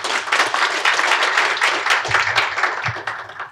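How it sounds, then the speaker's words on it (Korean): Warm applause from a forum audience welcoming a speaker at a natural gas supply-planning forum: loud, dense clapping from many hands, steady throughout and tapering slightly at the end, with no speech over it. "뜨거운 박수로 환영해 주시기 바랍니다."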